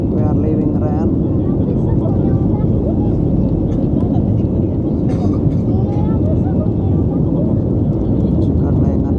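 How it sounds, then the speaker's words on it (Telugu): An airliner gathers speed down the runway for takeoff from Rennes airport, a loud, continuous engine roar filling the cabin, with voices faintly under it. "ఒకటేసారి చాలా స్పీడ్ అందుకున్నది ఫ్లైట్."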